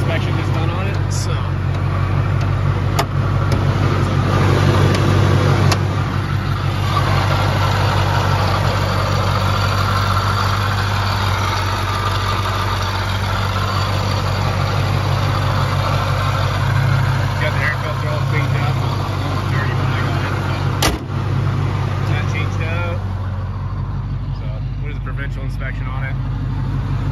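A 2012 Ford Raptor pickup with a supercharged engine runs steadily at idle, producing a continuous low rumble close to the microphone with little change throughout.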